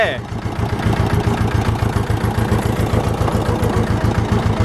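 An old Ursus C-330 tractor diesel engine, being run in after rebuilding, runs close by with a steady, rapid knocking chug. A voice talks over it.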